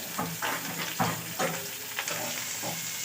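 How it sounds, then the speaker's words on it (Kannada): Chopped onions fry for chicken gravy in a hot pan, a steady close sizzle broken by rhythmic scrapes and stirs of a spoon about every half second. "ಈರುಳ್ಳಿ ಹಾಕಬೇಕು, ಸ್ವಲ್ಪ ಕೆಂಪು ಹುರ್ಕೋಬೇಕು."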